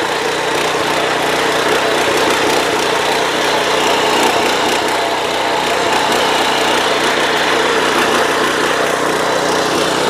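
An Agrineer power weeder's small engine runs close by with a loud, steady, unbroken drone and no talk over it.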